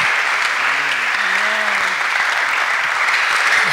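Dense, steady applause from a church congregation fills the whole stretch, with a few faint voices rising briefly above the clapping.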